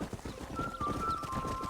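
Hooves clip-clop rhythmically as a horse gallops in Red Dead Redemption, quick repeated thuds close by with a faint high tone running through.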